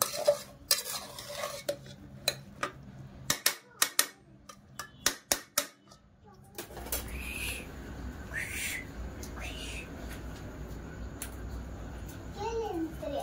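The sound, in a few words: stirring marinade mixture for homemade veg pulao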